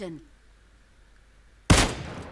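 A single sharp, loud gunshot in the video game PUBG Mobile, fired at a distant enemy, cracking suddenly after a quiet stretch that opens with a brief tail of voice.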